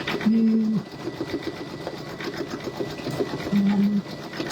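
A Brother V5 embroidery machine stitches a Christmas hanging sign design, a steady rapid mechanical whirr with short tonal beeps near the start and end, close and prominent.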